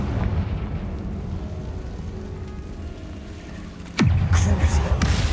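In the video game Hogwarts Legacy, a Confringo fire spell bursts with a sudden booming explosion after a stretch of rumbling ambience, followed by a loud, crackling roar that carries on afterward.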